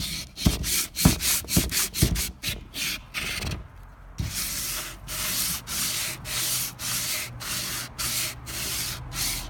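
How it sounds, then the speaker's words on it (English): Sandpaper rubbing over a hand-carved wooden sword in steady rhythmic strokes, quick and choppy at first, then longer continuous passes after a short pause, close and fairly loud with no talk. "Sanding it down."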